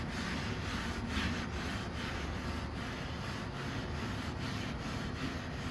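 Steel wool rubbed back and forth along the grain of wood, a steady close scratchy rasp in repeated strokes of roughly a third of a second each, continuous with no talk.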